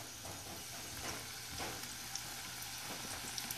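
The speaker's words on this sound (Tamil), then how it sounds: "மெதுவாக இப்படி சின்ன சின்னதாக ஊற்றணும் எண்ணெயில்" Small dollops of masala peanut batter fry in hot oil, a soft continuous sizzle with light bubbling pops, fairly quiet and close.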